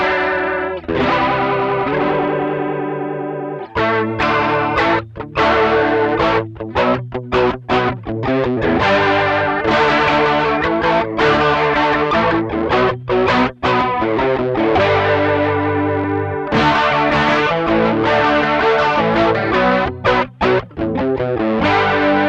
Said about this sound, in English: Engaging the vibrato.